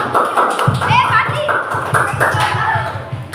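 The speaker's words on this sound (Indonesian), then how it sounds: "Kita berikan aplaus yang meriah kepada kelompok 1" Applause in a classroom after a student group finishes its presentation, a steady patter of many hands clapping close by, with children's voices mixed in throughout.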